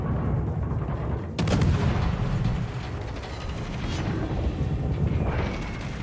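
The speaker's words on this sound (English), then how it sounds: "Anti-aircraft gun crews are on full alert." Rapid anti-aircraft gunfire from the cruiser San Diego in a naval video game, a dense rumbling barrage with a sharp burst near the start and continuous booming underneath, loud and close.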